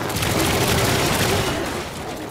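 A futuristic battle tank's cannon firing in the Trailmakers video game, a dense, continuous roar of rapid blasts at steady loudness, fading slightly at the end.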